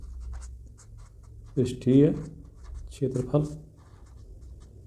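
Pen scratches on paper while a maths solution is written out, soft intermittent scribbling beneath a man's explanatory speech.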